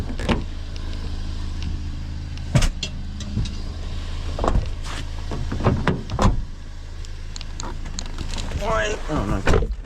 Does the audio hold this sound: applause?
no